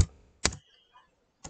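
A few sparse keystrokes on a computer keyboard: three sharp, separate clicks with pauses between them, close and alone with no talk.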